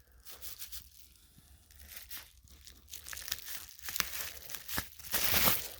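Tape and paper tear and crinkle as a taped package holding a book is slit open with a small claw cutter, a faint, close run of rips and crumples that grows louder toward the end.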